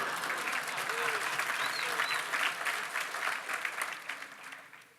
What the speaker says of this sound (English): I do expect some applause because she got applause